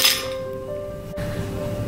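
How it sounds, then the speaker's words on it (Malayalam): Ice cubes dropped into a mixer jar while making refreshing juice, giving a sharp glassy clink at the start followed by a sudden knock midway, close and fairly loud with no talking. "കുറച്ച് ഐസ് ക്യൂബ്സ് ചേർക്കുന്നുണ്ട്."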